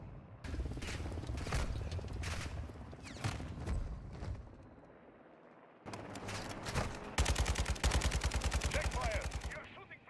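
Bursts of automatic gunfire aimed at the player in the Modern Warfare 2 campaign, sharp rapid cracks in several volleys that build to a loud sustained rattle near the end, with voices talking between shots.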